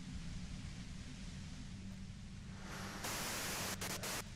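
Radio white-noise static in Disco Elysium, a steady dense hiss that runs throughout and swells louder and brighter toward the end, with no voices.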